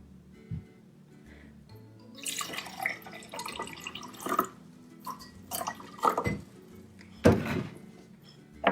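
Water trickles between glasses along a taped string, with soft dribbles, drips and small splashes coming in uneven bursts at close range, no voices.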